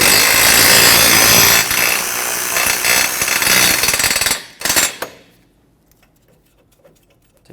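A lower rear brake caliper bracket bolt on a 2018-2023 Subaru Crosstrek is loosened with a loud, harsh power-tool rattle for about four seconds, then a few short bursts, then near quiet.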